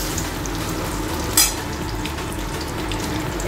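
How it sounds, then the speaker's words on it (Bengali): Marinated chicken pieces for chilli chicken frying in hot oil, a steady close sizzle and crackle running throughout, with one brief sharper spit or clatter partway through and no voices. "এখন চিলি চিকেনের মাংসগুলো ফ্রাই করতে বসিয়ে দিয়েছি।"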